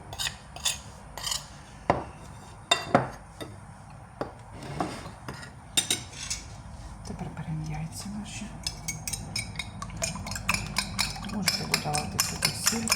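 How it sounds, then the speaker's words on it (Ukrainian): A spoon scrapes and clinks against a bowl as a mixture is stirred, with irregular knocks and rasping strokes that quicken toward the end. "Я його перемішую."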